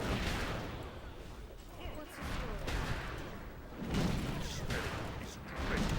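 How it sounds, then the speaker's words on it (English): Cannons fire in World of Warcraft during the battle for Gilneas City, giving heavy, rumbling booms that swell and fade in repeated waves over a dense, noisy battle din. "I can actually get on the cannons and start blasting shit."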